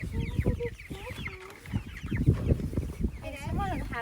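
Several chickens cluck and chatter close by, overlapping in short bursts, with a person speaking now and then underneath.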